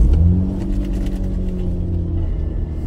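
A Mazda RX-8 rotary engine runs steadily at close range, with a low droning hum and a faint whirring throw-out bearing noise from the clutch.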